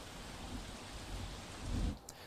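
Heavy downpour in Vapi during flooding, a steady dense wash of rain with a low rumbling swell near the end, unbroken by voices.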